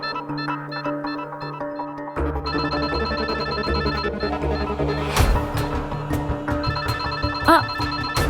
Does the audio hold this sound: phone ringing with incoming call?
yes